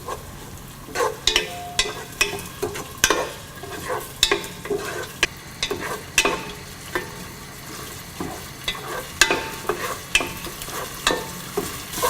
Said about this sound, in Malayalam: സോയ് സോസും ആവശ്യത്തിന് സോൾട്ടും കൂടിയിട്ട് നന്നായിട്ട് മിക്സ് ചെയ്യുക